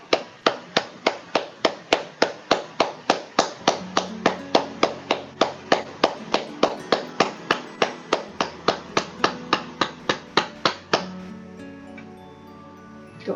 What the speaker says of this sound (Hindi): अगर आप ताली बजाना चाहते हैं तो बजा लीजिए